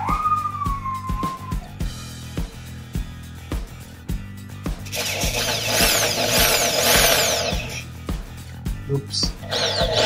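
A Hoyoma impact drill whirs and drills in uneven bursts. A rising, grinding roar swells through the middle, and people talk over it.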